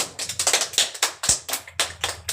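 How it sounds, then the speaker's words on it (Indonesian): Children in a classroom clap their hands for a classmate, a quick run of sharp, uneven claps lasting a couple of seconds, close and fairly loud, with no talk over them. "Tepuk tangan untuk Cia."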